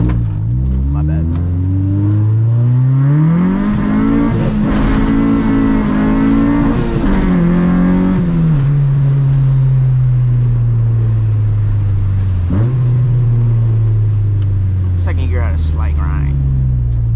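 A Honda B-series hatchback engine pulls hard from inside the cabin, its note climbing and then dropping through a gear change and settling into a steady loud drone, with a brief blip near the end and someone talking over it.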